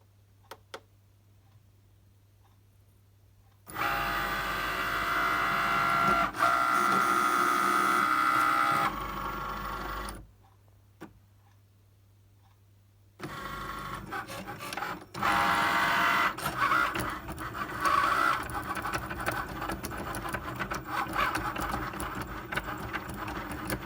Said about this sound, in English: now that your mat is in, the Cricut button's flashing, which means that you can begin when you press it